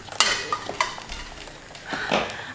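A vegan egg cooks in a pan with light scraping and stirring, a few sharp clinks of a utensil against the pan and a faint sizzle underneath, heard close up with no talking.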